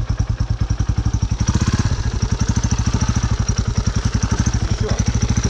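A motorcycle engine runs close by with rapid, steady firing pulses, revving up briefly partway through before settling back into a loud, rhythmic chug.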